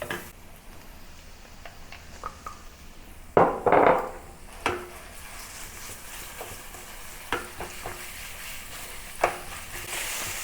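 Ground pork frying and being broken up in a wok over medium heat, a steady sizzle with sharp spatula scrapes and knocks, one louder clatter early on, no talk.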